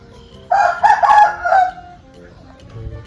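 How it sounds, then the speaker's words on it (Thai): A rooster crows once nearby, a loud drawn-out cock-a-doodle-doo lasting about a second and a half, followed by quieter background rustle. "ไก่ขัน"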